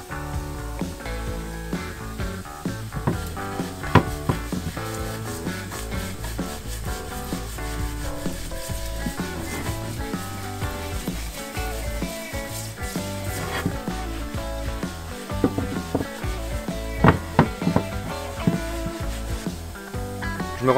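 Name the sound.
water mister spraying while washing dishes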